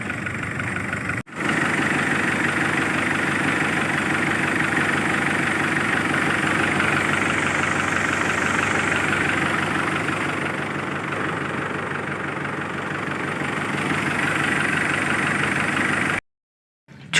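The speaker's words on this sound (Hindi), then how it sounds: "अभी बड़े ट्रैक्टर के ज़रिए ना उसको स्टार्ट करने की कोशिश कर रहे हैं।" A large tractor engine idles steadily and loudly with a rough, knocking diesel throb while it is used to start a smaller tractor, running unbroken until it cuts off near the end.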